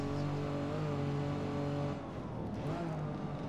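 A 1960s Aston Martin DB4 GT races flat out around the Nürburgring, its engine a loud, sustained high-speed drone with steady harmonics that shifts pitch near the end as the driver changes gear.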